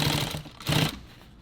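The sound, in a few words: sewing machine back-tacking stitches on nylon pouch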